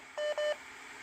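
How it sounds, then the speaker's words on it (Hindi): A mobile phone places a video call, giving two short, clean electronic beeps in quick succession. They are faint and sound alone, followed by quiet background hiss. "मैं देखो वीडियो कॉल वो लगा रहा हूँ"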